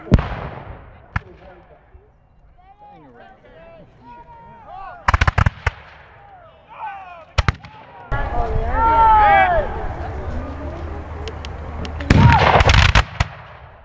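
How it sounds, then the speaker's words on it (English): Reenactors fire a musket volley at a Battle of Stoney Creek reenactment. Sharp, loud cracks echo outdoors, some single and some in ragged clusters, while people talk, call out and cheer around them. "the volley was how you would judge a unit 200 years ago, and it's effectiveness"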